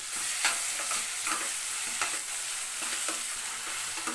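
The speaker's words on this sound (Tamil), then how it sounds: "வெங்காயம் வந்து நல்லா வதங்கணும்" Chopped onion sautés in hot oil with ginger, garlic and green chili, a continuous close sizzle broken by repeated scraping strokes of a spoon stirring the pan.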